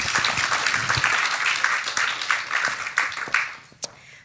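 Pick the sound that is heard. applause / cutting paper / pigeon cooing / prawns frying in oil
applause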